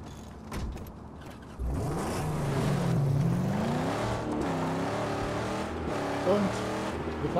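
A car driven in the Mad Max video game, its engine droning steadily with pitch rising and falling as it accelerates, running continuously under in-game speech.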